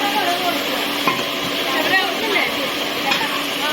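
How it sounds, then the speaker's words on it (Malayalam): Chicken curry stirred in a pan, with a steady sizzling hiss and soft scraping under continuous chatter from people nearby. "ചിക്കൻ കറി ഇളക്കുന്നതും"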